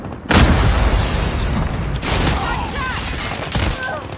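Gunfire in the mobile shooter Call of Duty Mobile comes as loud, close bursts of rapid shots and booms, with several distinct volleys over a few seconds.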